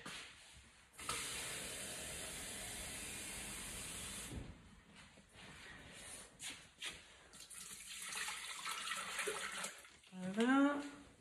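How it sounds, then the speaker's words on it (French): Water pouring into a Thermomix bowl for Varoma steaming, 1200 g measured in for a banana steamed cake, a steady broadband rush starting after a second and running about three seconds, then scattered handling clatter and a brief voice. "Mettre 1200 g d'eau."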